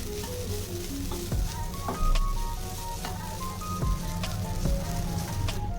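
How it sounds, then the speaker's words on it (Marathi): Grated coconut sautéing in ghee for Maharashtrian ukadiche modak, a steady close sizzle and frying hiss with occasional stirring scrapes, heard alone without talk. "तुपामध्ये आपल्याला तो परतून घ्यायचा आहे थोडासा एक ते दोन मिनटासाठी"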